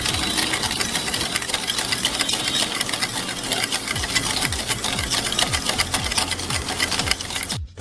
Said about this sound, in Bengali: এটা দিয়ে আমি এটাকে এখন খুব ভালোভাবে ফেটিয়ে নেবো